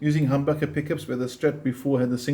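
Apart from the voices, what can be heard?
None of the usual background noises is heard.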